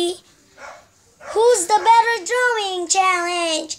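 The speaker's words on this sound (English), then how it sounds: "sorry if you hear the dog barking" A dog barks indoors while someone talks over it. Short yapping barks are mixed closely with her lively, fairly loud voice.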